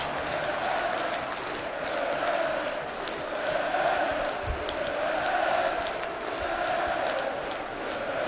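A football crowd at Pride Park roars in celebration of a goal during a Derby County versus Colchester United match, a dense, sustained wall of cheering and shouting that swells and surges throughout.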